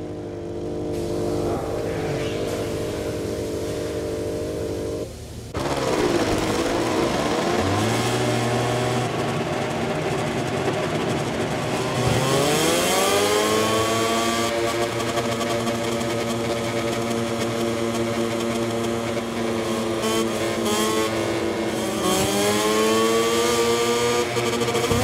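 Racing motorcycle engine in MotoGP 24 at the Portuguese Grand Prix, loud and close. It revs steadily, drops off briefly, then climbs through repeated high-pitched accelerations and gear changes with no talking.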